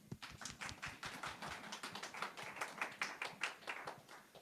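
Quiet, steady applause from a church congregation, a dense patter of many hands clapping at some distance.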